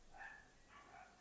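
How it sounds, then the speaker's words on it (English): Dogs bark outside, two faint, distant calls in quick succession over a steady background hiss. "it's dogs that are barking outside"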